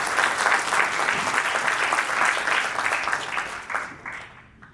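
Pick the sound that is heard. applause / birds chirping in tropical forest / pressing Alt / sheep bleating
applause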